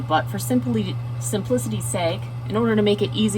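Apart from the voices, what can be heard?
No everyday noises stand out.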